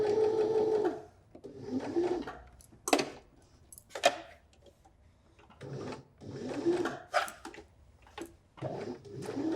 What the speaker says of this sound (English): Run a few stitches, make sure your needle's in the fabric